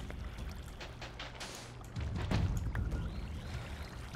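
Water in the Minecraft video game, a continuous splashing, pouring wash that swells louder midway and keeps up steadily, with light clicks and movement sounds over it.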